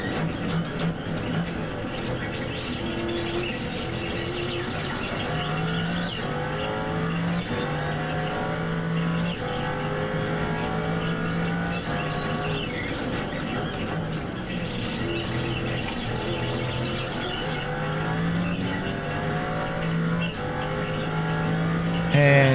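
Race cars, a Corvette and a Ford GT, lap Sebring in the iRacing sim with a steady loud engine drone and shifting pitch sweeps throughout, occasional tire squeal and cars passing, with faint talk underneath.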